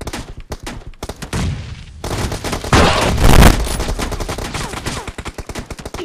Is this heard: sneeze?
no